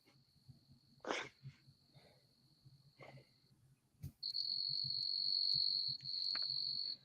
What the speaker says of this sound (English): the crickets in your background right now are perfect kind of background noise